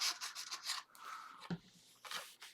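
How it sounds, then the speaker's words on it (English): Paper is folded and burnished by hand to form a pocket for a handmade mini album, giving soft, close rubbing and scraping strokes in short bursts with brief pauses between them. "we'll do our two sides and fold and burnish those"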